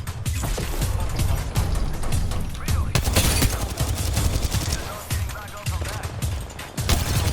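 Rapid, dense gunfire from the video game Apex Legends rattles on loudly and almost continuously, with mechanical clicks and reload sounds mixed in while players talk excitedly over it.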